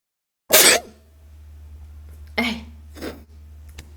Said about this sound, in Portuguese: Calma aí que eu vou espirrar.